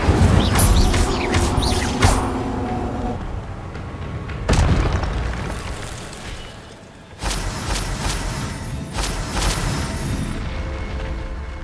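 The Incendio fire spell is cast in the video game Hogwarts Legacy, setting off several loud, booming blasts with rumbling tails. The bursts are spaced a few seconds apart and stand alone, with no talk.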